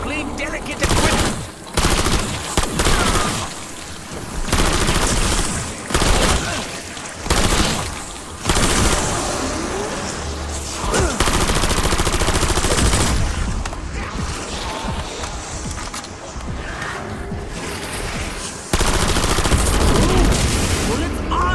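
Heavy gunfire in Call of Duty BO7 Zombies on cursed mode: sustained automatic fire and rapid shotgun blasts go on nearly without a break, loud and close, with a player talking over parts of it.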